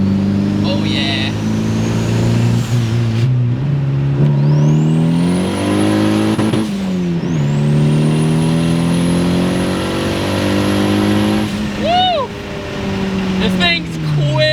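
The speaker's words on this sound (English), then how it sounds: "This thing's quick in third gear, dude." A turbocharged 350 hp Honda Accord accelerates hard through the gears. Its engine note climbs sharply, then drops at each of several upshifts. The sound is loud and close, with a turbo whistle riding on top.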